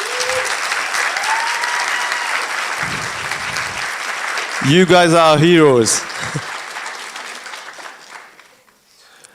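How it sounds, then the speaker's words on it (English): A White Coat Ceremony audience gives a round of applause, steady dense clapping that swells under a brief shouted voice, then tapers and dies away into near quiet. "give them a big round of applause"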